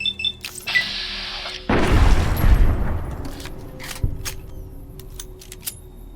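A single loud gunshot in Fallout New Vegas cracks out near the start of a long rumbling boom that tails off slowly, with faint clicks and game ambience afterward.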